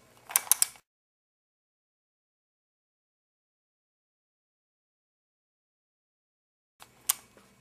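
A plastic Skewb puzzle cube twisted counterclockwise gives a brief burst of clicking, ratcheting turns, then near-silence, then another short click burst near the end.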